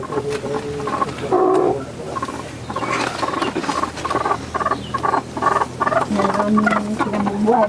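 A crowd of chickens clucking and chattering close by, a dense, continuous babble of calls overlapping one another.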